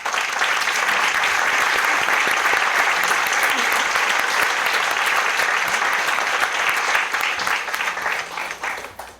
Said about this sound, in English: could we all just give a warm round of applause?